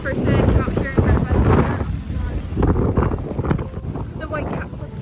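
Strong coastal wind on Rhodes, Greece, roars and buffets the microphone in heavy gusts, with wave noise underneath and brief voices mixed in.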